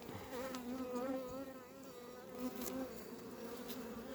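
Honeybees buzz densely around hive frames lifted during colony preparation for wintering, a close, continuous droning hum with no talk over it.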